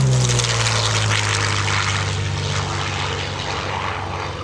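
A P-40 Warhawk with its Allison engine sweeps past at an airshow, a loud, steady propeller drone that holds strong and slowly fades as the plane moves away, with no talk over it.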